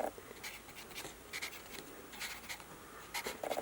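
Pen or pencil writing on a paper worksheet, filling in key names on a blank keyboard diagram: soft, close scratchy strokes in short irregular bursts with brief pauses, no talking.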